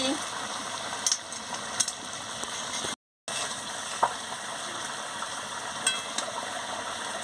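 Jackfruit curry with water, sugar and ghee being stirred in a pot, a soft steady bubbling and frying hiss with occasional light clinks of the spoon against the pot, close and moderately quiet, with a brief dropout partway.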